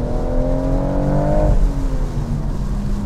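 A BMW M140i accelerating hard on a wet road in the rain, its engine note climbing steadily then dropping after a gear change, with tyre spray and road rumble underneath.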